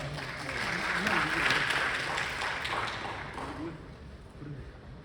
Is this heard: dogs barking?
no